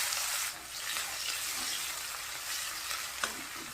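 Chopped onions fry in mustard oil with nigella seeds, a loud continuous sizzle close up, with a brief stir near the end.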